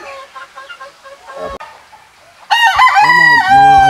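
A handsome gamefowl broodcock crows loudly and close up, a long harmonic cock-a-doodle-doo in the second half after softer clucking calls.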